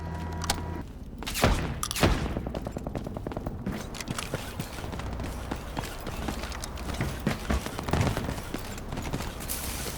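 Gunfire in the video game Delta Force, with sharp shots and rapid bursts repeating over a constant mechanical game background, moderately loud and with no speech.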